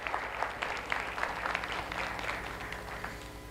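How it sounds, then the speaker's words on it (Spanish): A church congregation applauds during a Spanish-language service, a steady wash of hand claps at moderate level with a low background hum, no speech over it. "démosles un aplauso"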